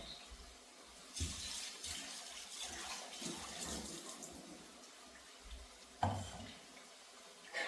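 Tap water runs into a container in a home kitchen during curry cooking, a steady rushing stream with a few clunks and knocks of vessels, moderately close and with no talking.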